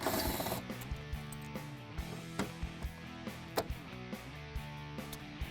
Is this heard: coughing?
no